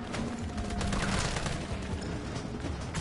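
Rapid gunfire from a Resident Evil 3 gameplay firefight, dense overlapping shots forming a continuous loud burst throughout, with game noise filling the background and no clear talk.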